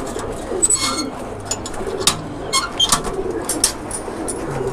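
Pigeons being given a deworming course coo softly nearby, with scattered wing flutters and chirps over a steady background hum.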